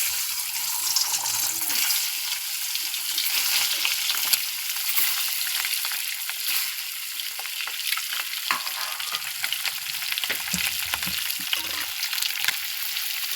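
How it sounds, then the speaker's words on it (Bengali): Eggs fry in hot oil in a kadai for an egg curry, giving a loud, steady crackling sizzle that continues without a break, close by. "কড়াতে একটা একটা করে ডিম দিয়ে দিচ্ছি"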